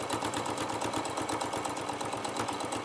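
Sewing machine stitching through a quilted fabric hot pad with a steady, fast mechanical whir and rapid needle rhythm, close by and continuous without talk.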